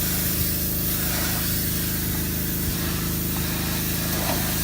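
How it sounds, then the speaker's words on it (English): Water sprayed hard while a front walkway is cleaned, a constant loud hiss with a steady low motor hum underneath, unbroken and close, with no talking. "Sorry for the background noise. My mom's cleaning the front walkway."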